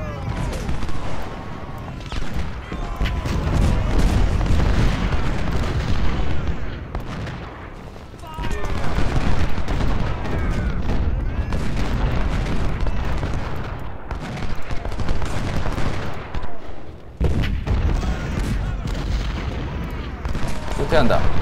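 Musket volleys and artillery crossfire from the Civil War strategy game Ultimate General: Civil War, at the First Battle of Bull Run, a dense, continuous roar of overlapping shots and booms with a voice shouting over the din.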